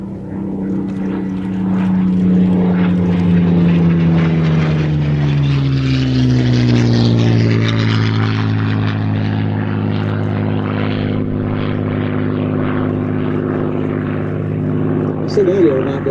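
A Spitfire flies a display overhead, its propeller engine droning loudly and steadily, the pitch sliding downward as it passes, while a person talks over it.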